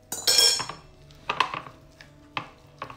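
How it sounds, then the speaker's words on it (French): Cookie dough is worked in a bowl with a spatula, giving a few scraping knocks and clinks against the bowl in short irregular bursts, close up and fairly quiet, with no talking. "je vais mélanger avec une spatule ou à la main"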